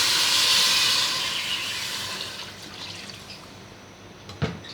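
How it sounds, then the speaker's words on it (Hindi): Water pours into a hot pot of spicy pulao with a loud, broad sizzling hiss that gradually fades and settles, ending with a brief clunk near the end. "अब हम इसमें 3 से 4 गिलास पानी डालें।"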